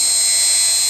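A Shapeoko 3 XXL CNC router drills holes with a tiny carbide bit, giving off a steady, loud, high-pitched spindle whine that holds unbroken throughout.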